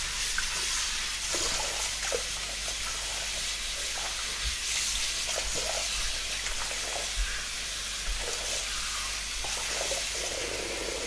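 Running water rinses a clogged rear cabin air filter from a Mercedes Vito W639 van, a steady hiss of spray with faint irregular splashes and drips, fairly quiet and continuous.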